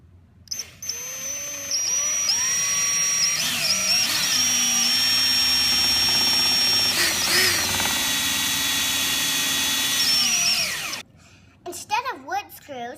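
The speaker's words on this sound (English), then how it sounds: "You gotta pre-drill all the holes so the board doesn't split." A power drill whines steadily for several seconds, close and loud, pre-drilling holes in a wooden board, with slight pitch shifts as it bites, then stops and brief talk follows.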